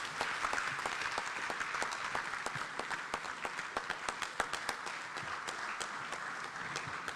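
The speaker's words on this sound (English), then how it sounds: "A round of applause for the Chief of Staff of the Republic of Ghana, the Honorable Dr. Julius Deborah" An audience applauds after a speech at a political gathering on Ghana's parliament and an LGBTQ bill. The clapping is dense and sustained for about seven seconds at moderate distance, with faint voices underneath.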